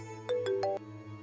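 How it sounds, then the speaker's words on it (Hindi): A short electronic phone ringtone plays a few rising melodic beeps over a steady background hum, moderately quiet and brief. "तुम्हारा फोन बज रहा है, उठाओ तो सही"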